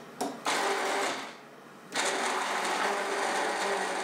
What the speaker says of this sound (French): On passe les morceaux au mixeur quelques secondes.